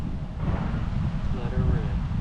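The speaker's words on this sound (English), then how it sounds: "The wind's coming hard across." Strong wind sweeps across an open golf course, a dense low rumble of buffeting against the microphone, loud and constant, with a voice speaking faintly underneath.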